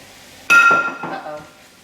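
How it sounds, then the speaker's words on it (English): Dry rice tipped into a cooking pot for arroz congri gives a sudden close clatter with a bright clink, then a rattling patter that fades over about a second. "we're gonna add in our rice"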